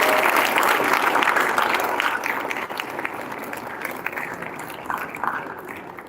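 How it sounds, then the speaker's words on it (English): An audience at a Gavel Club grand finale speech contest gives a loud, full round of applause, strongest at the start and slowly tapering while staying continuous, with a few scattered sharper claps near the end. "Audience, give them a thunderous round of applause."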